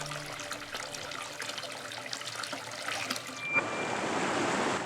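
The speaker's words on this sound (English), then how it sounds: "Here the water burbles from the ground, a continuous flow at a scalding 138 degrees." Water from the Bagby natural hot spring in Oregon burbles up from the ground, scalding at 138 degrees, a soft, close trickling that swells into a steadier gushing flow partway through.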